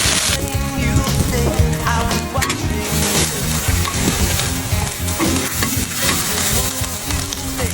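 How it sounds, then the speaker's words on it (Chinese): Green beans sizzle loudly in a hot iron wok, a continuous close-up crackle broken by rough scraping as they are stirred and tossed. "咱们豆角下锅啊"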